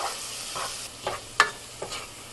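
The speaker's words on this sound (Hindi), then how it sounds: "सबसे पहले हम तेल गरम करेंगे और उसमें अपना जो लहसुन है जो हमने ग्रेट करके रखा था उसे थोड़ा सा भूनेंगे" Grated garlic fries in hot oil over medium heat, giving a steady sizzle broken by a few brief stirring scrapes and clicks, close and clear with no talk.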